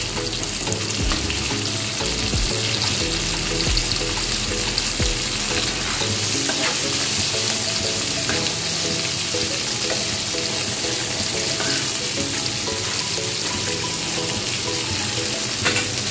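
Okra frying in hot oil in a pan for a Bengali fish and vegetable sour dish, with a loud continuous close sizzle and crackle plus stirring clatter throughout, no voices.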